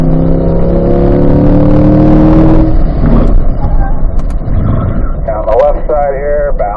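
A race car accelerates through track corners at a performance driving school, its engine droning loudly with shifting revs while an instructor talks over it, then easing off into a quieter whine.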